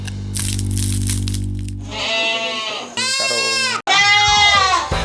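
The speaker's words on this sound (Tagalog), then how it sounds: "Mula sa mga cutie baby goats hanggang sa malalaking mommy kambing." Goats on a goat farm, from babies to large adults, bleat loudly and close by in several long, wavering calls that follow a brief crunching rustle.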